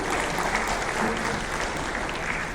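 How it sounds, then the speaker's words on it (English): A conference audience gives a panel discussion's speakers a dense, even round of applause, close and steady, with murmured voices faintly beneath the clapping. "A big round of applause for all of our speakers here for this wonderful discussion."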